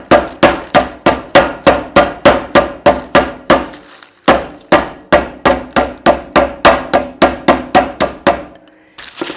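Rolling pin whacking a block of butter between sheets of parchment paper, a rapid run of loud, sharp thuds in steady rhythm, pausing briefly and then resuming for another long series, close and with no talking.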